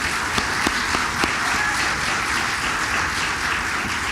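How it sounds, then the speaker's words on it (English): An audience at a Harlan County candidate forum gives the Magistrate District 5 candidates a sustained round of applause, even and continuous, with a few sharper claps near the start. "Let's give them a big round of applause."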